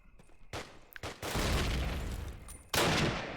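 Bursts of gunfire in the Call of Duty: United Offensive video game: a few sharp shots, then sustained rapid fire that breaks off briefly before another loud burst, close and harsh.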